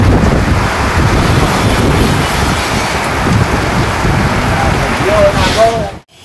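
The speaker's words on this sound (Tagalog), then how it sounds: "Grabe po yung lakas ng ulan" Heavy rain pouring down hard in a dense, roaring wash with gusty wind buffeting the microphone, steady and loud throughout, then cutting off abruptly at the very end.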